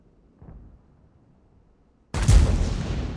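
A tank cannon fires in World of Tanks: one sudden loud, booming blast that rolls on with a sustained rumbling tail, preceded by a faint short thud and near-silence.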